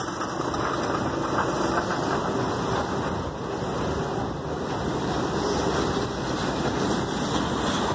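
A motorcycle engine runs steadily at Santos port, Latin America's largest port, a continuous mid-level drone with wind noise and no talking.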